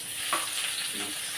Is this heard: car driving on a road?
no